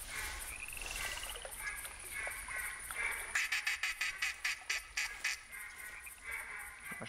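Ducks in the hunting game theHunter 2017, set in Rougarou Bayou, give a quick run of about ten sharp quacks at middle distance, following softer marsh ambience of chirps and croaks.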